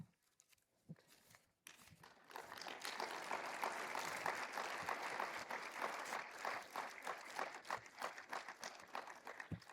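After a brief quiet moment, an audience at a literary conference panel breaks into sustained applause, many hands clapping steadily for several seconds at moderate distance.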